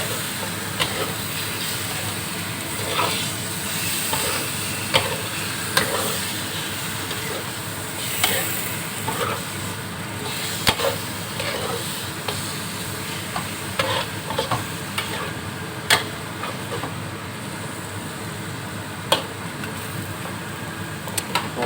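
Chicken drumsticks with lemongrass and herbs are stir-fried in a pan, with a steady sizzle and sharp, irregular scrapes and clinks of a utensil stirring, close and continuous.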